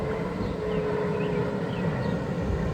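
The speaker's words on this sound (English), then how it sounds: "Talking over my video with that loud jet blast coming out of the back" A loud, steady jet blast roars out of the back of a device, a continuous close rushing noise with a faint whine and no break.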